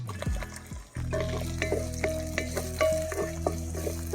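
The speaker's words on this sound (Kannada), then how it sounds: "ಆನಿಯನ್ ಹಾಕ್ತಾ ಇದ್ದೀನಿ" Onions sizzle and crackle as they drop into hot oil in a pan for mutton liver fry, with a steady close frying hiss and light clinks of a spoon stirring throughout. No one speaks.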